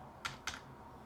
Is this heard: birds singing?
no